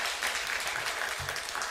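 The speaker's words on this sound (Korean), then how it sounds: "우리 애기들 박수 한번 해주세요" Brief, dense applause from a church congregation at an early-morning revival service, clapping for the children, a continuous wash of claps at moderate level.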